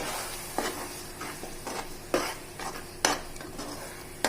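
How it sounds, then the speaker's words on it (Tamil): Ground tomato puree sautéing in a pan for chicken biryani, stirred with a utensil: a steady soft sizzle broken by several sharp scrapes and clicks of the spoon against the pan, close and with no talking. "அதை சேர்த்துட்டு நல்லா வதக்கிடலாம்."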